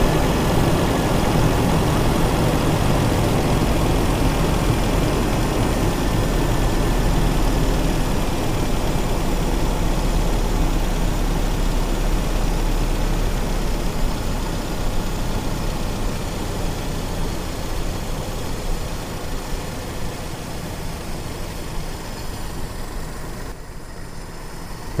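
A car engine hums steadily at a low, heavy idle while the RPM adjustment screw is turned on a misfiring engine, a close, continuous drone that eases slightly toward the end.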